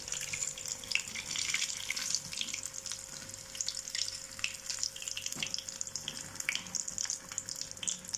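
Steady crackling sizzle of sausage rolls frying in hot oil in a pan, continuous and close, with a faint tonal hum running underneath throughout.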